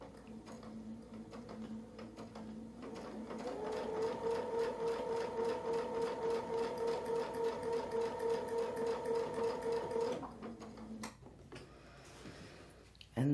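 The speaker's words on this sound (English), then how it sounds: "And that's how we sew a zigzag." A sewing machine stitches a zigzag line in a steady, fast mechanical whir with regular needle ticks that run for several seconds and then stop, close and clear, with a few separate clicks afterward.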